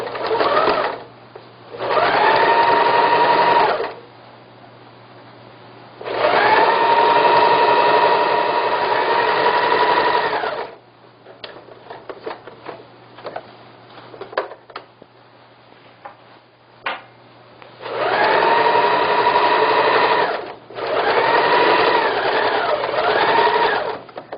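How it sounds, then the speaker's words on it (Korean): A sewing machine stitching a Korean hanji-style floor cushion runs in loud, close bursts of rapid mechanical whirring, pausing in between for quieter handling clicks and fabric rustle before starting again. "밑에 좀 힘이 있도록 박음질을 해보겠습니다"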